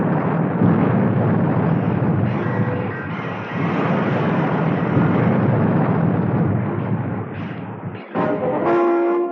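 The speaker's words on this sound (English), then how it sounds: "There was a shattering explosion." A shattering explosion from a tractor plunging to earth in a Thunderbirds puppet adventure, a loud sustained roar of blast and rumble that fills the scene before dropping away near the end into a tonal horn-like sound.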